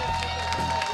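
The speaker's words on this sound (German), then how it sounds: "Hier kommt der Jubel für unser Ass, Max Unglaube." Crowd cheering and clapping at an international summer ski jumping event in Bad Freienwalde, a brief burst of celebration with a steady tone running underneath.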